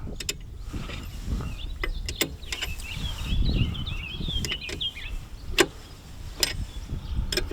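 A spanner works a lock nut on farm machinery outdoors, giving a series of sharp, separate metallic clicks and ratchet-like ticks at an uneven pace over low background rumble, with faint birdsong in the distance.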